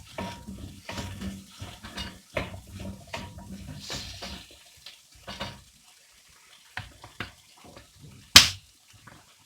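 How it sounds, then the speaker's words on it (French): Apple pieces are stirred in a pan, a run of soft repeated scraping and sizzling strokes close by, thinning out into sparse scrapes and pauses, ending with one sharp clack. "je vais remuer un niveau de pomme"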